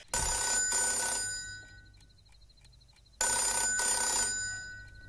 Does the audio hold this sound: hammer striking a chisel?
no